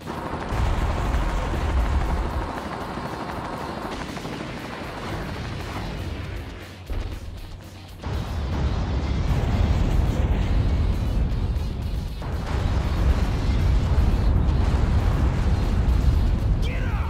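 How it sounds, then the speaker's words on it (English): Explosions from a mech's missile punch in a video game, heavy booming blasts and rumbling bursts that dip briefly midway, then return louder and sustained, with speech mixed in. "Suck on my missile punch!"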